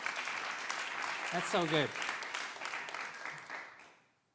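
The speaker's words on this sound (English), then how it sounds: "Yeah, clap for that." An audience claps in a dense, steady round that fades away near the end, with a voice speaking briefly over it partway through.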